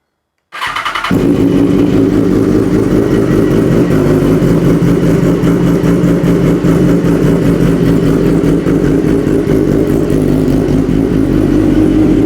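BMW S1000RR sport motorcycle (2009–2014 model) firing up after a brief silence, then settling into a loud, steady, throbbing idle that continues close by to the end.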